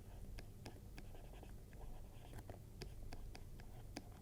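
Marker or chalk scratches across a board in short strokes and taps while someone speaks quietly over it, close and faint.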